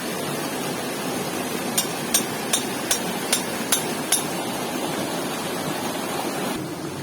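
A river flowing right beside a gold-prospecting spot on a riverbank, heard as steady broadband rushing water close by, with a short run of sharp metallic taps partway through and no talk.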